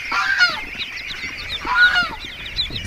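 Farmyard ducks calling in a loud, overlapping chorus of raspy honks and quacks at close range, rising in two bursts around feeding time at dusk.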